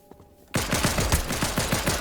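Gunfire in the Fortnite video game, a sudden burst of rapid repeated shots after a brief quiet moment, loud and evenly paced, continuing to the end.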